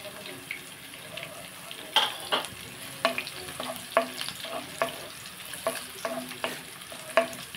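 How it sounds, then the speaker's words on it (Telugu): Dried red chillies frying in oil in a pan, a steady soft sizzle broken by recurring clinks and scrapes of a spoon stirring, close by with no talk. "బాగా వేగుతున్నాయి కదండి."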